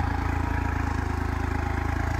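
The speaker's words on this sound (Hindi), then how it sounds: "फोर व्हील का 5620 ट्रैक्टर है" A four-wheel-drive 5620 tractor engine idles steadily with an even, fast, thumping pulse and a clattery mechanical tone, close and continuous, with no speech.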